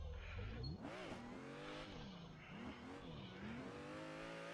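A BMW E36 drifting on a touge mountain road, its engine loud and close, revs swinging up and down in repeated surges with a faint hiss of tires.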